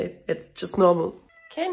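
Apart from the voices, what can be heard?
pet cat meowing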